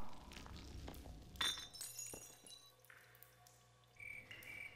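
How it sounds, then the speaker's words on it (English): Glass bottle smashing in the video game Half-Life 2: Episode Two, a sharp shattering crash with tinkling shards, followed by quieter game ambience and a high tone. "I like the bottle smashing sound here"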